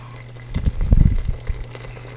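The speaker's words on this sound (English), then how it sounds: "I'm going to add my hot boiling water from my kettle" Hot boiling water poured from a kettle into a pot of Maltese marrow and onion soup, a brief splashing pour of about a second over a low steady hum, with no talk.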